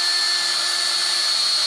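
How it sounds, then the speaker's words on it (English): A wire brush spun by a power drill scours rust scale off a car's brake assembly, giving a steady, loud, continuous high-pitched whirring scrape with no pauses, heard alone without talk. "I've got a wire brush attached to a drill, and I'm going to go ahead and clean this whole area"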